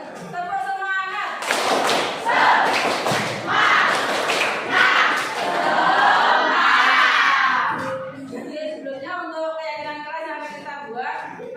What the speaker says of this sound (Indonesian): sebelumnya kita tepuk semangat dulu ya, bareng-bareng. Tepuk semangat.